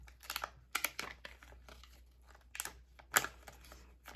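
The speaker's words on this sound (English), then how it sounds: "I'm gonna pull this off here of the sticker sheet that says Christmas" A Christmas sticker is peeled off a sticker sheet, giving soft crinkling and short tearing rips in several bursts, quiet and close, one sharper crackle near the end.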